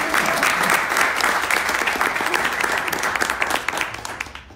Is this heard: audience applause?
yes